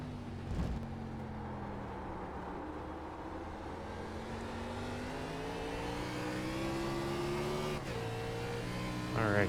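Race car engine in the sim racing game iRacing, a steady mid-pitched drone with falling and rising tones as the car shifts down from third to second, heard alone without voices.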